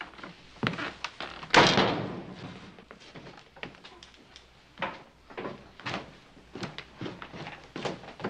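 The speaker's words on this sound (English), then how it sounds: "Shut the door, will you?" A door being shut in a hotel room in an old Western, a single solid thud early on, followed by scattered quieter knocks and room noises.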